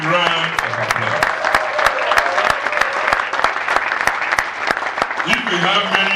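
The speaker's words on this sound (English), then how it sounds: "They demand a big round of applause." A crowd at the 2019 Annual Leadership Lecture applauds loudly and continuously, sharp individual claps standing out from the wash while a voice speaks over the clapping.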